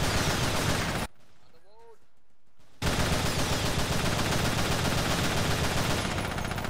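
Dense, loud gunfire from the video game Battlefield 2 roars almost continuously, broken by a short quiet gap with a brief tonal sound before the barrage resumes.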